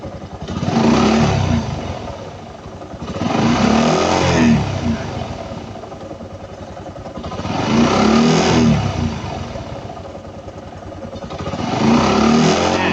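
A car engine with a newly replaced genuine fuel pump is revved four times in a row, each rev swelling loudly then falling back to a rough idle, close by.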